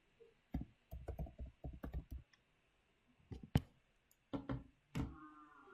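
Typing on a computer keyboard, close and clear, in quick bursts of clicky keystrokes separated by short pauses in an otherwise quiet room.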